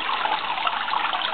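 Constant gushing flow of water through a homemade float valve feeding a maple syrup setup, even and close, with no voices.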